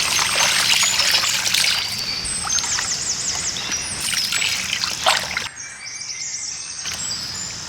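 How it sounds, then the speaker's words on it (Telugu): Running water pours and trickles steadily while chicken is washed in a village-style kitchen, with a few bird chirps outdoors and the flow dropping off sharply near the end. "వాటర్తో కడిగేద్దాం."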